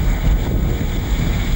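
Strong storm wind roars across a sailing boat near Cape Horn, with heavy wind buffeting the microphone and breaking waves rushing along the hull in a dense, loud, constant wash.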